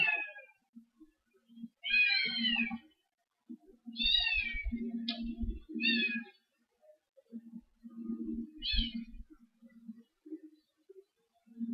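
Unhappy foster kittens in their kennel meow several times, short plaintive cries scattered over quiet low rustling and thumps, faint and somewhat distant.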